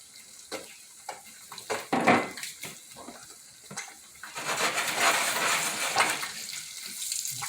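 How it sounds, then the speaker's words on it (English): Ham and eggs sizzle in a hot pan for a breakfast sandwich: scattered crackles and pops at first, then a dense, steady frying hiss swelling in the second half, close and moderately loud with no talk. "Oh yeah, listen to that sizzle."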